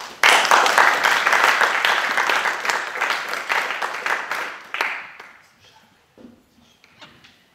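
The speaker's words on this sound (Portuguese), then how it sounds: "Eu peço o vosso aplauso para Aurora Ribeiro." Audience applause at a World Theatre Day event in Horta, a dense burst of clapping that swells loud at once, holds for about five seconds, then thins into scattered claps and fades.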